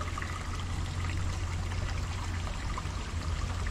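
A flowing water stream trickles and burbles steadily at moderate volume under a low rumble, with no talking.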